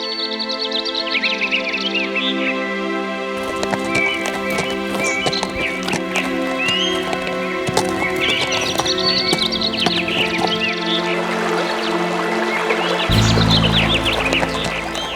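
A cartoon horse carries sacks of cotton, with steady clip-clopping hooves and a brief whinny over background music and bird chirps.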